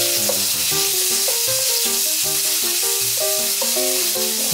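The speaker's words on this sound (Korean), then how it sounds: "팬이 뜨거워지면 소고기를 넣고 빠르게 익혀주세요." Beef frying quickly in a hot pan with cooking oil over high heat for tteok japchae: a steady bright sizzling hiss running throughout beneath a melodic music track.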